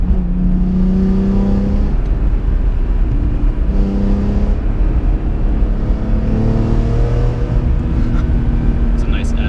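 A 2004 BMW M3 engine while driving on a winding country road, steady loud engine drone with rising and falling rev tones through gear changes, continuous throughout.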